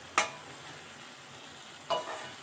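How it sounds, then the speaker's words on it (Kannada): Two short scraping strokes of a spoon through tomato and onion gojju in a pan, spaced about two seconds apart over a quiet background with a faint sizzle. "ಮಧ್ಯ ಮಧ್ಯ ಈ ಥರ ತಿರುಗಿಸ್ಕೋಬೇಕಾಗುತ್ತೆ, ಯಾಕಂದರೆ ತಳ ಅಂಟಿದ್ರೆ ಕಷ್ಟ ಆಗುತ್ತೆ"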